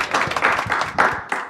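Applause from an audience greeting circus performers Cachito and Chuni of Circo Carcarañá on a radio show: a brief burst of clapping, fairly close and steady, with no voices over it.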